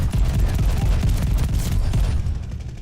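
Rapid gunfire in Call of Duty emptying a magazine: a dense, fast burst of close shots with heavy low thumps that runs for over two seconds, then tapers off.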